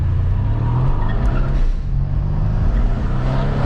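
A Mercedes C63 fitted with VRP intakes accelerates on a public street, its engine a loud, steady roar with a deep low-end drone throughout, heard up close with no talking.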